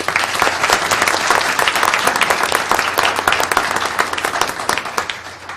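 A crowd applauds with dense, steady clapping that fills the room, then gradually thins and fades toward the end.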